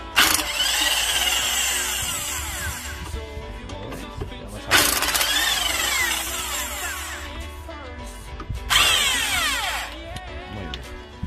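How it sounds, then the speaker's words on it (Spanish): Bursts of a power tool loosening drive shaft bolts on a Seat Ibiza 6L, three loud whirring runs separated by quieter workshop handling, close by. "vamos a aflojar para que veáis el efecto que conseguimos al aflojar"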